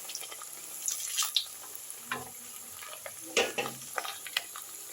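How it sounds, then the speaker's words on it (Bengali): Potato-stuffed naan puris deep-fry one at a time in hot oil over a medium-high flame, with a light continuous sizzle broken by bursts of bubbling and scattered clinks of stirring. "এই পর্যায়ে আমি এবার একটা একটা করে পুরি তেলের মধ্যে দিয়ে দিচ্ছি।"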